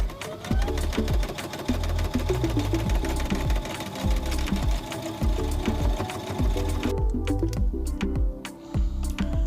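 A sewing machine stitches a seam on small Barbie doll clothes with a steady, fast, close mechanical whir and a rhythmic needle clatter that runs almost unbroken and eases briefly near the end.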